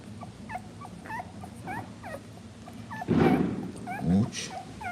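Several pet dogs keep up a noisy run of short yips, whimpers and whines, with a couple of louder barks near the end, while people talk nearby.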